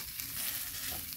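Bottle gourd leaves frying in a pan give off a steady, close hiss of sizzling oil that fills the whole short stretch evenly, with no voices over it.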